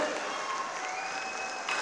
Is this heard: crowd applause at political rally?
yes